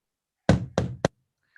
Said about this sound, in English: there was 3 knocks at the door